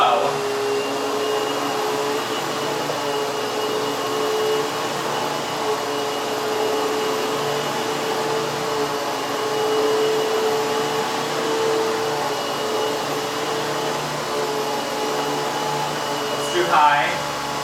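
A Hoover HushTone 15-inch commercial vacuum cleaner runs on its low setting, a steady, fairly quiet whirring drone held close throughout, with a short rustle near the end.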